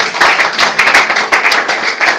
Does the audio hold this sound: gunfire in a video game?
no